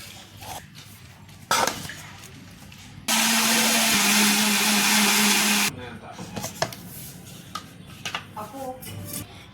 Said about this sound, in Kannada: ಮಿಕ್ಸಿ ಹಾಕ್ಕೊಂಡ್ಬಿಟ್ಟು ಬರಾಮ ಇವಾಗ